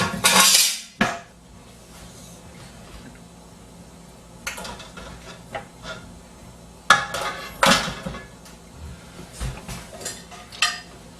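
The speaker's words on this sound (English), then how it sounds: "Put the lid on, but without the rubber gasket, without the pressure stopcock." Metal clatter of a lid and cookware on a pressure cooker used as a water bath for canning muscadine jam, with a sharp clang at the start and scattered clinks and knocks later, close and fairly loud.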